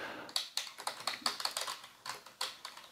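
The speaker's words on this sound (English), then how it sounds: "So now my fingers are dropping onto the keyboard." Fingers drop onto a computer keyboard resting on an XLayout X-Turbo wrist rest, giving a close, steady run of crisp key clicks with no talking.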